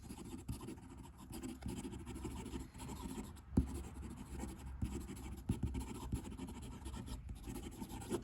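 A Parker Duofold Centennial Classic Black fountain pen is dragged quickly across paper, giving a continuous close scratchy rustle with small bursts and ticks from fast strokes. There is no talking.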